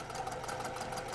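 A sewing machine stitches fabric along a curve, giving a steady, close mechanical whirr with a fast, even rhythm that runs without pause and with no talking.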